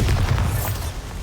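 A Bombarda explosion spell goes off in Hogwarts Legacy as a loud, low booming blast with a rumbling tail, heard alone.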